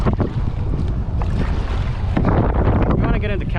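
Wind buffeting a microphone on the water during kayak fishing for redfish, a loud steady rumble with water noise, and a voice speaking over it toward the end.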